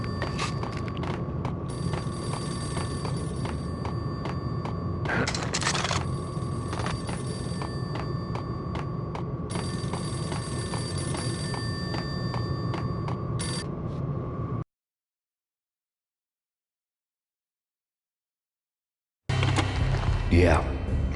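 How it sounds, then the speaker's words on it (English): A payphone rings in the video game Max Payne, repeated bell bursts in a regular pattern over a low game ambience, broken by a stretch of silence before the sound resumes. "The payphone started to ring."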